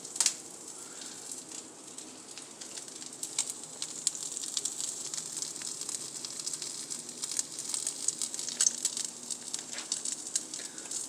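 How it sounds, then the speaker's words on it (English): Steady crackling sizzle of chicken wings frying on a hot grill pan, close and continuous with small popping bursts throughout. "if you want to hear that sizzle"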